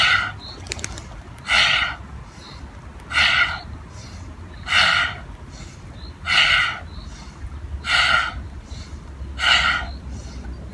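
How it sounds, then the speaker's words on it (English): Fast yoga breathing, with sharp, loud breaths repeating in a regular rhythm of about one every one and a half seconds, close up and alone. "Inhale, exhale. Keep it going. Speed it up."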